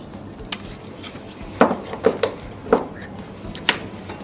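A brush or stick stirs paint in a small jar, giving a few light scraping and clinking taps against the glass, close and fairly quiet, with no talking.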